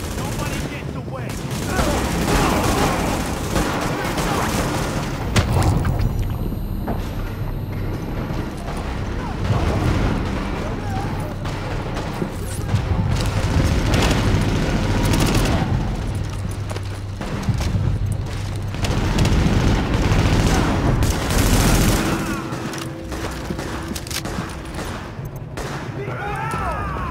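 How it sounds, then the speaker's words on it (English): Heavy gunfire pours down from a rooftop gunner in The Division, dense bursts of automatic fire and booming shots layered over game music, with a voice talking intermittently through the barrage. "The escort party's taking heavy fire from the roof."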